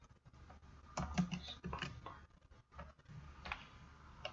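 Typing on a computer keyboard, heard as quiet, uneven bursts of soft key clicks with short pauses, close but faint, and no talking.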